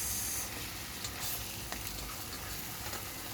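Chicken adobo fries in a pan and is stirred, a dense close sizzle with faint scraping from the utensil, steady throughout, no talking.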